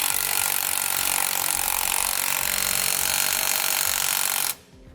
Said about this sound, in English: We're going to use a 19mm socket and wrench to tighten them down.